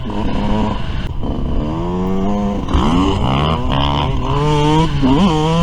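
A Yamaha YZ125 dirt bike engine screams on a motocross track at 74MX, loud and close, its pitch climbing and dropping as the rider works the throttle and shifts through the power band.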